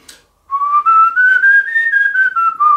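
Melodic whistling, close and loud, that slides up into a sustained note from below and then wavers gently through a short phrase, heard alone.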